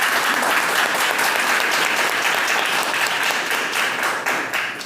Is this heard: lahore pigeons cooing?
no